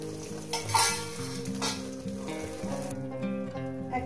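Egg frying in a pan, a steady sizzle with spatula stirring and scraping against the pan bottom, close and clear, with background music underneath.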